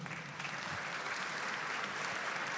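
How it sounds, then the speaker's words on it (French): An audience at a Creole Christmas show in Avignon applauds, a dense, continuous patter of clapping heard alone at moderate distance. "Et là encore, s'il vous plaît, ça s'applaudit."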